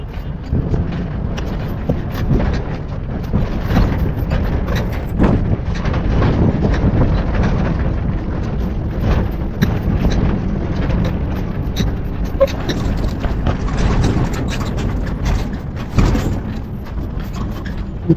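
A lorry rumbles and shakes along a rough road leaving Ladakh, a loud, steady low roar with wind buffeting and rattling jolts, no voices heard.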